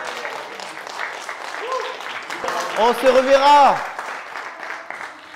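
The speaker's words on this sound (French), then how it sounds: "je vous demande d'applaudir" Studio audience applause at a comedy elimination show, clapping beneath a host's voice, with a louder swell of voices near the middle.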